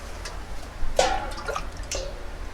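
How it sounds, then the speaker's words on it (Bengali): Water is poured into a cooked-down mustard masala for pabda fish, making a couple of soft, brief splashes over a quiet background. The sound is faint and close, with no talking. "এবার এর মধ্যে আমি দিয়ে দেবো পরিমাণ মতন জল"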